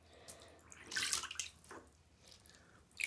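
Water churning and bubbling in a tub as dirty plush Webkinz toys are washed and held under, with soft splashes and a louder burst of sloshing midway, close and alone.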